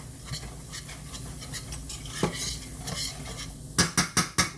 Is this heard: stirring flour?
yes